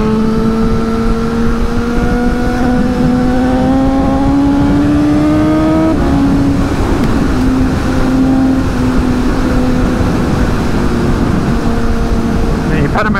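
A Porsche Panamera Turbo accelerates hard, its loud engine note climbing steadily in pitch, dropping at a gear change midway, then pulling on as a sustained close roar.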